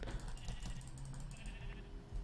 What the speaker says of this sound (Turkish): Şimdi şu koyunu da alabilir miyim? Gel bakayım. Koyun. Koyun.